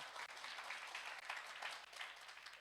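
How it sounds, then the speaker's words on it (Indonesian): Congregation applauding in a church during a Sunday service birthday greeting, a steady, dense wash of many hands clapping at moderate distance, fairly quiet and continuous with no talk over it. "Tepuk tangan dong."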